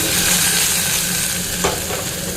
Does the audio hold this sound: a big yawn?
no